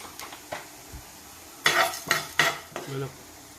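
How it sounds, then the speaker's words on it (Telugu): A metal spoon scrapes and clinks against a pan while coriander seeds, chana dal and urad dal dry-roast, several sharp stirring strokes in quick bursts, close and fairly loud, no voices. "ఫస్ట్ ధనియాలు ధనియాలు వేసుకుంటున్నానండి అన్నీ ఒకటి వన్ బై వన్ శనగపప్పు అండి మినపప్పు వేస్తున్నానండి"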